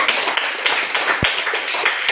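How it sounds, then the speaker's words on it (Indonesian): A classroom group claps for group 5, a brief burst of light, fairly quick hand claps with one sharper thump near the middle, heard alone without talk. "tepuk tangan untuk kelompok 5"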